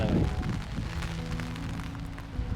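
Heavy rain pours steadily over a hill fort at Mandangad, a dense, continuous hiss of falling water with a low rumbling undertone that holds throughout.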